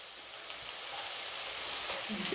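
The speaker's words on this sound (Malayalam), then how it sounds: "അടുത്തതായി തേങ്ങ ചെറിയ കഷ്ണങ്ങളായി അരിഞ്ഞത് ഇതിലേക്ക് ഇട്ട് കൊടുക്കാം." Curry leaves and small chopped pieces of coconut sizzling in hot frying oil for Kerala egg theeyal, a steady, close, bright hiss of frying that holds level throughout with faint stirring.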